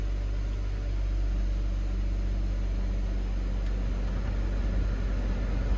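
A car engine runs steadily during a test drive, with the air conditioning on. It makes a constant low hum and rumble inside the cabin, with no talking.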